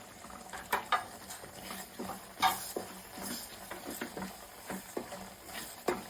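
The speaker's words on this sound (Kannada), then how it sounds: "਒ಂದು 5 ನಿಮಿಷ ಆಡಿಸಿದ್ರೆ ತಳ ಎಲ್ಲ ಬಿಟ್ಬಿಡುತ್ತೆ ಇದು." A spoon stirs thick homemade puliyogare paste in a pan, with soft irregular scrapes and pats at close range, fairly quiet.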